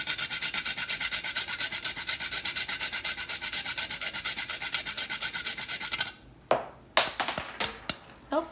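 Whole nutmeg is rasped over a fine grater, in quick rhythmic scraping strokes, close and steady, for about six seconds. Then it stops, and a few separate taps and knocks follow.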